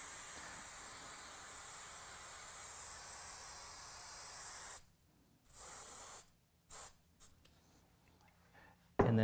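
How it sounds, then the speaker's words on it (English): Spray from an aerosol can coats a model sagebrush tree in a long continuous hiss, followed by several shorter bursts separated by quiet gaps. The sound is close and fairly soft. "now what I'm going to do is take some of the spray again"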